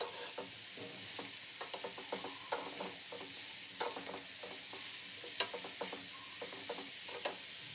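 Vegetable momo stuffing stirred in a hot pan, a spoon scraping and tapping in quick irregular strokes over a continuous close sizzle, with no talking.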